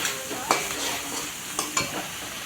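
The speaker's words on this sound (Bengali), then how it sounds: "হলুদ দিয়ে একটু নাড়াচাড়া করে নেব" Fish curry masala with turmeric sizzles softly in a pan as a spoon stirs it, giving a few distinct scraping knocks over a low continuous fry; no voices.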